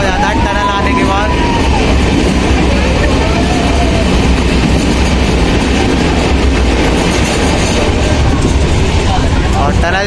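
Kota Katra Express passenger train running through a mountain tunnel between New Delhi and Katra, a loud, steady enclosed roar of wheels and carriages with rhythmic clatter, close and continuous throughout.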